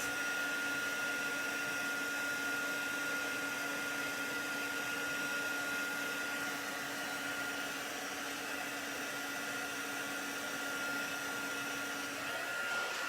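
A hair dryer blows a steady, even whir with a faint high whine as it dries a watercolour painting of Queen Anne's lace done with purplish ink, running constantly and close for the full stretch with no talking.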